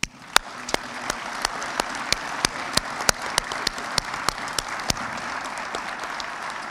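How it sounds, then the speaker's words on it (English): An audience at the 2019 inauguration of a district attorney gives public servants a hearty round of applause, with dense steady clapping and a scatter of sharp, distinct claps standing out across the whole stretch. "Let's give all of our public servants a hearty round of applause."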